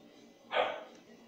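A single short dog bark rings out at moderate distance in a quiet home kitchen, then fades quickly into low background noise.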